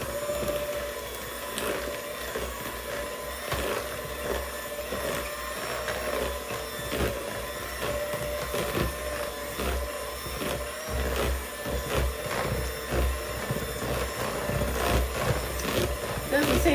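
An electric mixer whirs steadily as it beats extra creamy Cool Whip for a coconut cream icebox pie, its motor droning continuously at close range while a person talks over it.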